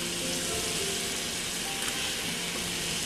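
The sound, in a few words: chicken added to sizzling Thai red curry paste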